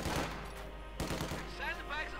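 MG42 machine gun fire in Company of Heroes 2 battle, a dense rattle of rapid shots with bursts near the start and around the one-second mark, mixed with distant battlefield noise and faint voice chatter.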